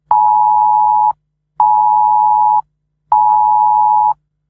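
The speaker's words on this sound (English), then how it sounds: "You'll get an alert like this on your mobile phone." UK government emergency alert tone from a mobile phone during a planned nationwide test: three loud, identical steady beeps, each about one second long, separated by brief silent gaps, with no talk.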